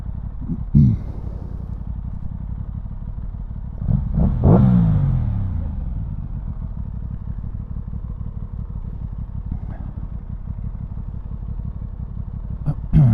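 A 2022 Aprilia Tuono 660 motorcycle is ridden on North Wales roads, its engine a steady low drone under wind rumble, with a couple of brief revs and throttle swells, close and continuous.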